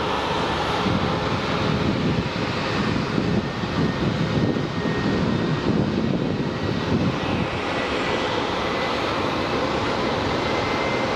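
A jet airliner roars loudly and steadily at Phoenix Sky Harbor International Airport, with broadband engine noise and wind buffeting the microphone, no talking.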